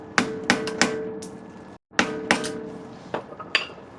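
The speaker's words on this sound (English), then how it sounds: "Sledgehammer." A sledgehammer strikes metal to stake the axle nut onto the drive shaft of a 1999 Acura RL, several sharp ringing blows in irregular rhythm close by, with a brief pause midway.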